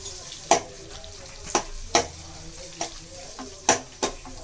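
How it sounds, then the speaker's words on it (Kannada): Onions fry in plenty of oil for lemon rice, a soft background sizzle punctuated by about eight sharp spatula scrapes and taps against the pan, close and unvoiced. "ಇದು ಕೂಡ ಈರುಳ್ಳಿ ಕಂದು ಬಣ್ಣ ಬರೋ ತನಕ ಕೂಡ ನಾವು ಫ್ರೈ ಮಾಡ್ಕೋಬೇಕಾಗುತ್ತೆ"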